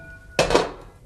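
A cooking pot is picked up beside an open fire while homemade wild boar sausages are being prepared: one close, sharp metallic clank that rings briefly and fades.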